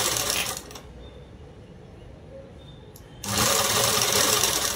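A sewing machine stitches a fabric hem in two loud, steady whirring bursts, one at the start and a longer one at the end, with a quieter pause between.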